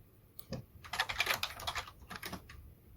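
Code being typed on a computer keyboard during a Python programming lecture, a quick burst of soft, close keystrokes lasting a couple of seconds with no talking.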